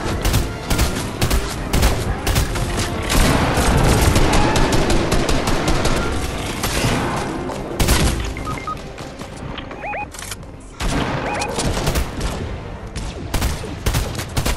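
Dense bursts of assault rifle fire from a video game squad match crackle almost without pause, loud and close, with brief lulls and a few sharper single shots.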